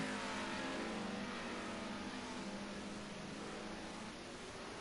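BMW M3 race cars in a racing video game on the Rouen-Les-Essarts street circuit, engines droning steadily and loud together with a sustained revving tone throughout.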